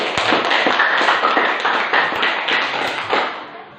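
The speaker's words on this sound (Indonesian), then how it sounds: "Baik, tepuk tangan dulu kasih" A class of students claps hands in a brief, steady round of applause that stays fairly loud and close throughout, with no talking over it.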